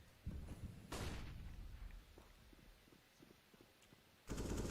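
Flashbang grenades in Counter-Strike on the Dust2 map during a competitive match: two sharp, loud bursts, one near the start and one near the end, separated by quieter game noise with a few soft thuds.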